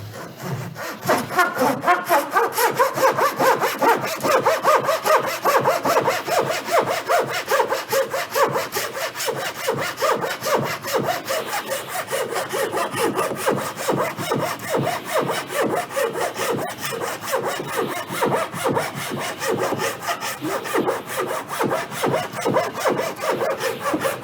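A hand saw cutting through wood in a maker-fair woodworking workshop, long steady rhythmic rasping strokes, loud and close, continuing evenly for the whole stretch with no talking.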